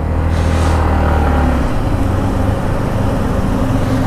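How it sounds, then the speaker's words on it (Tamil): A Yamaha MT15 motorcycle climbs a steep hill road near Valparai, its engine growling loud and steady close to the microphone, with a deep low rumble that shifts slightly as it labours uphill. "நம்ம வண்டி பாவம் உருமுதுங்க"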